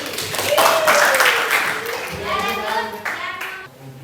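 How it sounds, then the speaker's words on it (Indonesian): Students in a mathematics classroom clap briefly for a classmate, a short burst of hand claps alongside the teacher's speaking voice. "Tepuk tangan dulu buat Najib"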